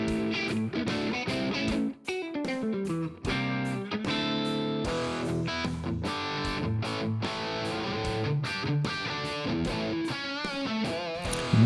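AmpEra amp plugin set to a basic 80s/90s rock distortion tone, with dense, sustained overdriven guitar chords and riffs played continuously and loudly, and no voices.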